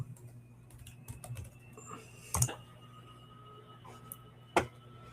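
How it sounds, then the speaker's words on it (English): Quiet typing on a computer keyboard indoors, with scattered soft keystrokes and a couple of sharper clicks, heard alone with no talking. "I started typing in Stripe"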